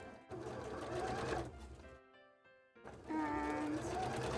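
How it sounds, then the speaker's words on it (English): A sewing machine stitching lace applique onto stretch velvet, a fast even whirring hum that runs, pauses briefly into near quiet, then starts again, close and fairly soft. "sewing lace applique on stretch velvet"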